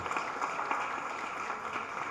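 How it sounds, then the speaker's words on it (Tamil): Audience at a film pre-release event applauding after a song, a dense, even patter of many hands at moderate distance for a couple of seconds. "கைத்தட்டுங்க"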